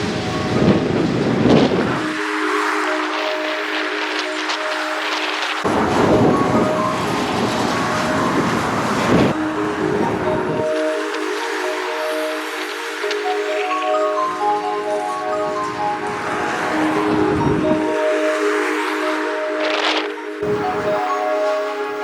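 A CSX manifest freight train rolls steadily past nearby, heavy wheel rumble and rail noise rising and easing in waves with recurring clickety-clack and steady tonal hum throughout, no voices.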